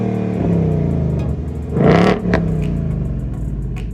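A 2019 Ford Mustang GT with a Borla Atak active exhaust in track mode revs hard and loud once, swelling and falling, followed by a few sharp pops and crackles as the engine settles back to a rumbling idle.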